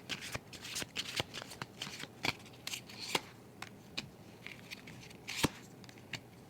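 Tarot cards are shuffled by hand, close and quiet, with a series of crisp riffling snaps at an irregular pace.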